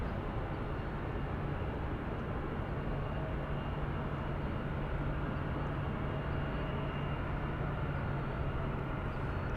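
An airliner on approach to land near San Francisco airport, a steady broadband jet roar holding at a constant, fairly loud level throughout with a low droning hum underneath, no voices.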